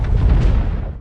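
A huge film explosion destroys a nuclear facility in Iran, a loud, dense boom with a rumbling roar that fills the whole moment and then slowly fades.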